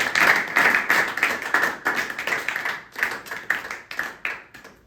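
A church congregation claps and cheers in worship, with dense, ragged hand claps repeating in bursts across the whole stretch, lively and close, with no voices standing out.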